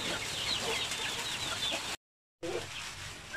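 Free-range backyard chickens cluck and murmur nearby in a steady flock chatter, with a brief cut to silence partway through.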